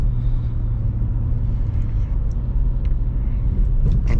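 A 2004 Bentley Continental GT coupe with a 6.0-litre W12 engine cruising on the road, a deep, loud, steady rumble heard from the cabin with low road noise underneath.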